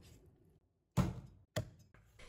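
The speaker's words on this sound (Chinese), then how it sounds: "先将鸡肉对半切开" A heavy cleaver strikes a chopping board twice while halving a whole old hen, each a loud, solid thunk with a brief ring after it, set apart by short quiet gaps.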